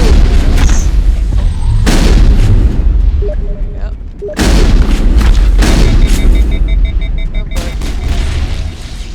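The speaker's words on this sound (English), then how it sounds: "Not gonna hit him very effectively with the shotgun" Shotgun blasts in the video game Mass Effect: several heavy, booming shots with sharp onsets, roughly a second or two apart, loud and close, separated by brief lulls.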